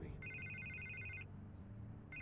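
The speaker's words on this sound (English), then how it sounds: "I can't get the phone to stop ringing." Telephone in Batman: The Telltale Series rings with a trilling electronic bell, one long burst followed by a pause and the start of another, over low game ambience.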